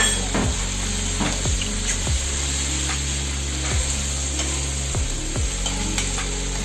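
Chopped onions frying over high heat in a pan for chilli paneer, a loud, continuous sizzle with sharp stirring scrapes at irregular intervals, close up and without speech.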